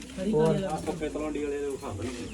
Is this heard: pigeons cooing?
yes